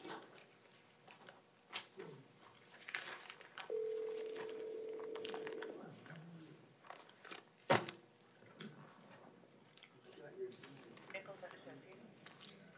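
A telephone call is placed on speakerphone in a courtroom bond hearing: a steady electronic tone holds for about two seconds among scattered clicks and handling noises, with faint voices around it.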